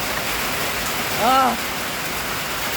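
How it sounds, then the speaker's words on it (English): Steady rain falling outside, heard from a back porch as a continuous soft hiss of drops on surfaces, with a brief spoken exclamation over it midway. "That's actual rain."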